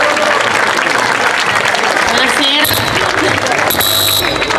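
Loud, close applause greets the Legnano football club's woman president as she comes onto the stage at a club presentation event, with thick steady clapping, a brief dip partway through and a voice talking over it.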